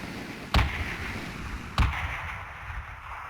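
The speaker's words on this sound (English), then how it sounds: "Someone's firing rockets at me." Two sharp rocket launches in the video game Pantropy crack out about a second apart, each a sudden loud blast over a steady rumbling background.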